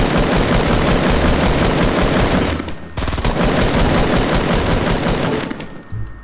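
Loud, rapid automatic gunfire in the video game Fortnite, a dense continuous burst that briefly thins out before resuming and then trails off at the end, with no talking.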